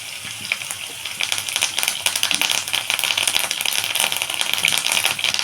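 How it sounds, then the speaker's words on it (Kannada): Curry leaves dropped into hot oil with frying onions for puliyogare crackle and sizzle in a dense, rattling spatter that starts immediately and stays loud and close, with sharp pops throughout. "ಇವಾಗ ನಾನು ಕರಿಬೇವು ಸೊಪ್ಪು ಹಾಕ್ತಾಯಿದ್ದೀನಿ"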